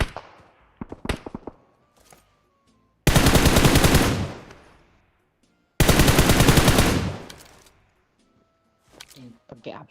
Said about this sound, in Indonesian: Pakai apa gue nembak nih?